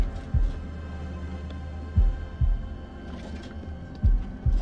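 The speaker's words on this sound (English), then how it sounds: "Heartbeats do sound cool." Deep heartbeat thumps from a video game pulse in pairs at a slow, even rhythm over a low steady hum, heavy and close.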